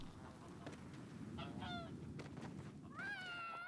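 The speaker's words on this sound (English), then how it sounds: "mildly confused as to why we have goose or geese all over the place" Geese in the Knights and Bikes video game honk in a few short, nasal bursts, with one drawn-out honk near the end over a steady background hum.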